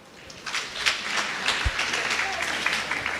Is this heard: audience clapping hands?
yes